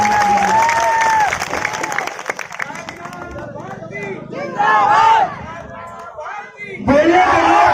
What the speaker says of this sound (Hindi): जब हाथ खड़े कर ही लिए हैं तो तालियों की गड़गड़ाहट